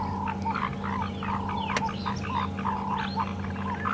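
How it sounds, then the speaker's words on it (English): Tree frogs call on an overcast day at dawn, a chorus of repeated croaking pulses layered over a steady low hum, moderately close and continuous, with one sharp click partway through. "I'm struggling to actually see the tree frogs, but hopefully you can hear them at least."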